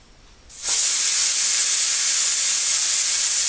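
A sudden loud hiss bursts out and holds steady, a sharp continuous jet of escaping steam close by from a pressure cooker cooking mutton.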